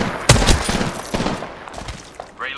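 Rapid bursts of gunfire in Apex Legends ring out close and loud, a sharp opening shot followed by a dense volley that tapers off over a couple of seconds.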